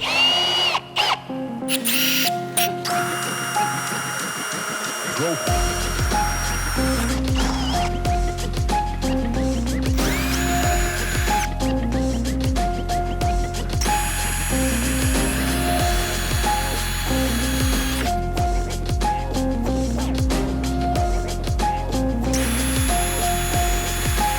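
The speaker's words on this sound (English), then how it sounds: "I'm gonna drill these holes in 2 steps." A power drill whines loudly and steadily, its pitch rising and dropping as it bites through a Jeep JL/JT front inner fender in repeated bursts up close, drilling rivnut holes.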